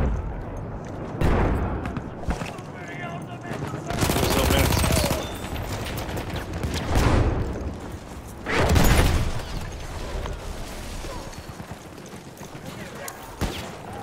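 Battlefield 1 battle in the Sinai desert: repeated machine-gun bursts and booming gunfire rattle loudly in waves, mixed with heavy combat noise and people talking over it.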